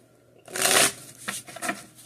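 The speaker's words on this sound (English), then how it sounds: "we're going to shuffle this deck 9 times" A deck of tarot cards is shuffled by hand up close, one loud riffling burst followed by a few shorter, softer flutters.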